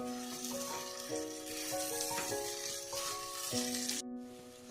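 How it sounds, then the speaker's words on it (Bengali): Fried pointed gourd sizzling in a pan as it is stirred together with spices, a continuous close crackling hiss with occasional stirring scrapes and a brief clatter near the end, over a steady background tone, no talking. "পটলের সঙ্গে আমি মশলাটা ভালোভাবে মিশিয়ে নেব"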